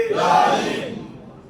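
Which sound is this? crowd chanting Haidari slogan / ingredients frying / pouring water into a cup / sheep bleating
crowd chanting Haidari slogan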